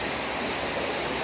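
A waterfall pours in a constant, full roar of rushing water, loud and unbroken with no voices heard over it.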